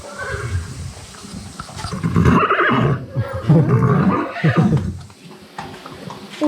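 Horse neighing inside a stable, loud, rough whinnies repeating through the middle of the clip with shuffling background noise.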